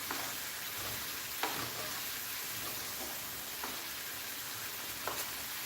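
Keto shrimp scampi fries in a pan with a soft, continuous sizzle at low volume, broken by a few faint clicks and taps like stirring utensils.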